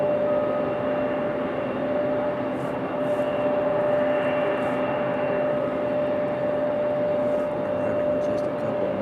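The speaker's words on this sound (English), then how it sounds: "3815, coming in from Ronald Reagan International on an E175 LR." An Embraer E175 LR airliner arriving from Ronald Reagan at Raleigh Durham airport gives a steady, fairly loud jet drone with a sustained whine running through it, continuous and unbroken.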